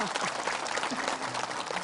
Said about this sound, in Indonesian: Ya tepuk tangan untuk ibu-ibu di studio.